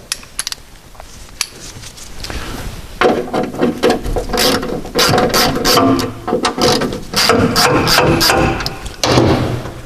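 A ratchet works loose the inboard fastener on a front wheel arch liner, with its mud flap already removed, giving bursts of rapid close clicking and rattling that stop and start throughout.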